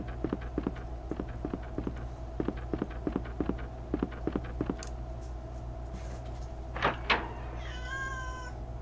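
A cat meows twice in quick succession, close and fairly loud, following a run of soft rhythmic tapping steps over a steady low background hum.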